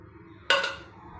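A metal wok set down on a stove burner for making sabu khichuri, one sharp clattering clink of cookware that rings briefly and fades, close and alone.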